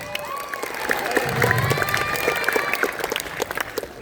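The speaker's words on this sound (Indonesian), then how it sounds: "Tepuk tangan dulu." Audience clapping at a school celebration in Indonesia, a steady wash of applause from a crowd with scattered shouts and children's voices mixed in, sustained at moderate loudness throughout.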